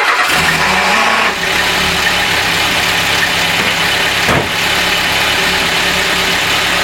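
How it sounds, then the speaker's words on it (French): Renault R11 engine cranking and catching, then settling into a steady mid-pitched idle with a couple of brief rev blips, loud and close with no talk. "Donc je vais le faire démarrer, je vais le laisser chauffer"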